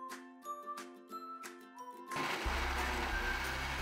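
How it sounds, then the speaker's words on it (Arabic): A kitchen blender whirs into a loud, steady roar, mixing green juice with sweetened condensed milk and basil, after a couple of seconds of light chiming tones. "هلا رح نخلطهم على الخلاط."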